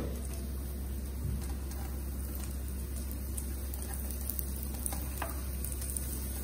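Whole spices of cloves, black pepper, cinnamon and ginger sizzle steadily in hot oil in a pan for a Gujarati vaal pulao, a soft continuous crackle with faint stirring ticks and no talk.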